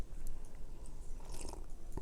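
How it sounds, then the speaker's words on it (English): A short, wet mouth sound of someone slurping, close and fairly quiet, with crunchy chewing-like noises and no talk. "Oh, that was a good slurp."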